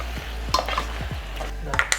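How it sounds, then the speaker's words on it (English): A spoon stirs pasta through about a cup and a half of water in a pot on the stove, giving a few wet scraping swishes with light clinks of utensil against metal, close and clear. "Give it a mix"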